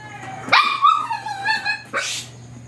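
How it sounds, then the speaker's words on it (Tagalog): A dog barks sharply nearby, a couple of loud yelps followed by whiny, drawn-out barking, with no talking. "pasensya ng mga kapatid ang ingay ng aso namin eh"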